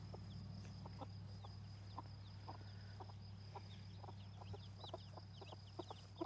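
Soft, scattered clucks and chirps from several silkie chickens in an irregular rhythm, set against a steady low hum.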